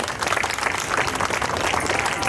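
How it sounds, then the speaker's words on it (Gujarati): Applause from a crowd at a Navratri garba celebration in a housing society, a dense burst of clapping that holds steady throughout. "સો બધાએ પોતાના માટે તાળી પાડો"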